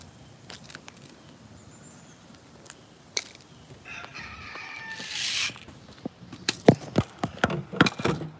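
Chickens cluck and squawk nearby, building into a loud burst of excited fowl calls with a crowing-like cry, followed by a series of sharp clucks and thumps.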